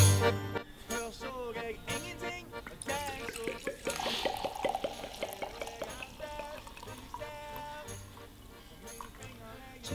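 A man imitates with his mouth the glugging of liquid pouring from a bottle, a run of close, bubbly gulping pops with pitch changes, mixed with other vocal sounds.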